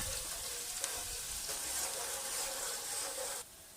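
Onions sizzle in very hot oil with a dense, steady crackling hiss, close and continuous, briefly dropping in level near the end.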